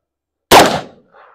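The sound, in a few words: gunshot from 14.5 inch 5.56 rifle firing PMC X-Tac M193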